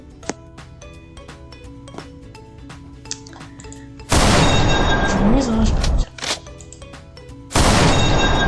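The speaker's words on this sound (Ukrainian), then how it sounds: "Хтось у мене стріляє" Scattered sharp gunshots in a Roblox game pop against a musical background, followed by two long loud bursts of heavy firing; a voice speaks briefly.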